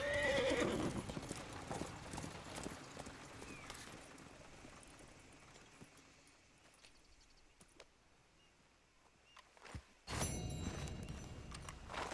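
Horse hooves clip-clop along with a whinny early on, amid Red Dead Redemption 2 game ambience, then a louder burst of movement near the end.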